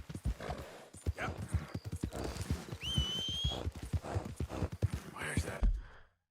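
Horse hooves clop in a steady, rhythmic beat in Red Dead Redemption 2, close and continuous, with a brief whinny partway through.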